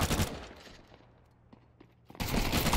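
Gunfire in Counter-Strike 2: loud bursts of shots open and close the moment, with a quieter stretch between them holding a few faint distant pops.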